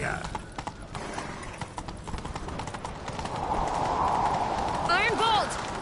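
Rapid clip-clop of a galloping horse in The Witcher 3: Wild Hunt, loud and close, with a whinny near the end; voices speak over the hoofbeats.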